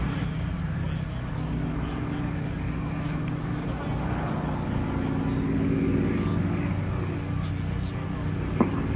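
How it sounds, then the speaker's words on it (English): A high-powered light aerobatic airplane's engine at an air show drones steadily throughout, moderately loud, with a faint rise in the middle and a brief sharp click near the end. "The light weight of the aircraft combined with the high power of the engine allows them to do those maneuvers."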